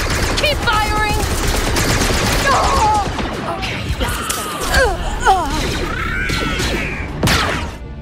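Blaster gunfire in the Star Wars Outlaws video game, rapid volleys of shots crackling continuously through a busy battle mix, with zipping energy bolts and character voices shouting over the fire.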